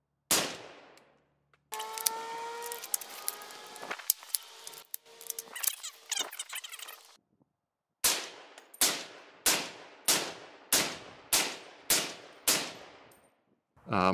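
A Midwest Industries MI-10F rifle in .308 fires live rounds: a sharp report, then metallic clanging and ringing, followed by a fast, evenly spaced series of crisp cracks, each decaying quickly.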